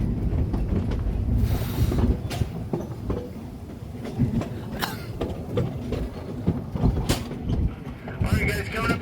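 Narrow gauge train ride on the Cripple Creek & Victor railroad, with a steady rumbling rattle of the cars rolling along the track and a few sharp clanks, while people talk over the noise.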